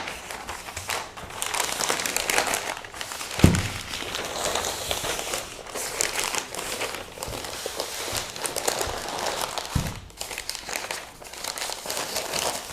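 Crisp newsprint crinkles and rustles steadily as a pottery package is wrapped diagonally, close and continuous with a couple of sharper thumps as it is folded and handled.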